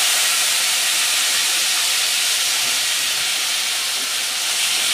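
Potatoes and cumin sizzle in hot oil at close range, a loud, continuous, even hiss lasting throughout with no talk.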